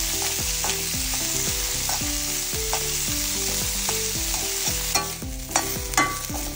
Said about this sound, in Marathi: तेल जसे तापले तसे 4 कांदे आम्ही उभे चिरून घेतलेले ते बरे भाजून घेऊया